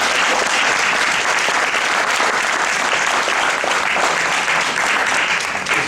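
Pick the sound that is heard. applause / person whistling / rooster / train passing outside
applause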